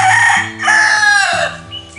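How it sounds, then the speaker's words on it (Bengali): A rooster crows at dawn at a hill forest eco-stay in Purulia, two loud, close drawn-out calls one after another, with a lower clucking hen in between and under them. "মোরগ ডাকছে"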